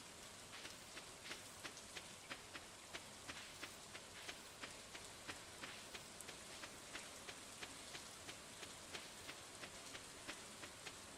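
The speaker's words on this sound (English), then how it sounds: "We've got some nice rain here." Steady rain falls in the Stardew Valley farming game, a soft, even patter with small drop ticks spaced at a regular rhythm, faint and without voices.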